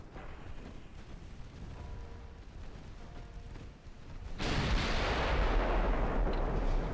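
Naval gunfire and heavy shell hits in the warship game Ultimate Admiral: Dreadnoughts, with a low rumbling battle backdrop that erupts into a loud, sustained booming roar of impacts and fire.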